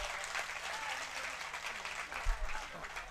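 Audience applause at a live Hindi poetry gathering (kavi sammelan) at the Laxminath fair in Ratangarh, a steady wash of many hands clapping together throughout, moderately distant with crowd ambience.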